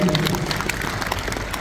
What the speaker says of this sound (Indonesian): Tepuk tangan Pak Marzuki Ali